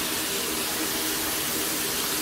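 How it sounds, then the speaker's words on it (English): Running water rinses the blackened skin off roasted sweet peppers, a constant close gush like a tap pouring into a sink, with no voices. "let's rinse off this black burn"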